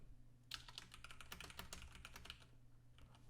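Text is typed on a computer keyboard in a desktop design program, a quiet, quick run of close key clicks that begins after a brief pause and then thins out.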